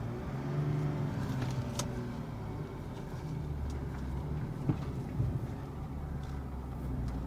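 A 1998 BMW 328is with a 5-speed, long parked and rescued from a salvage auction, drones along on the road with a steady low engine hum and a couple of faint knocks, heard from inside the car.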